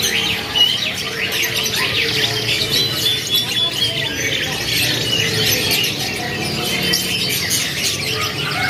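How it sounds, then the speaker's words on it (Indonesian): Several small local canaries at a bird shop sing and chirp continuously in a busy, layered chorus of high twittering, fairly close and steady throughout, with no talk over it. "meskipun di omyok tapi masih ada aja yang gacor, karena ini membuktikan bahwa burungnya sudah gacoran ya"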